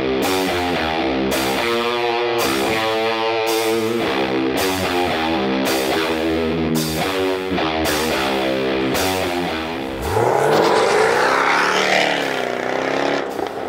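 A fast car laps a track with traction control switched off, its engine loud and steady as it pulls hard through rising and falling gear changes, then a brief harsher roar and tire noise near the end.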